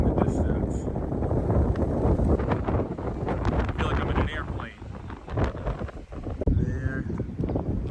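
Strong wind on a clifftop high above the island of Santorini, roaring and buffeting against the microphone throughout, while a person speaks over the gusts.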